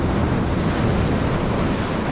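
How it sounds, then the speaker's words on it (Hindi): Strong sea waves roll in at Trasi beach, Kundapura, a dense, continuous roar of surf with heavy wind buffeting the microphone, loud and close with no voices. "हम लोगों ने इस पास से जाना भी छोड़ दिया, क्योंकि पानी की वेव्स काफ़ी ज़्यादा है"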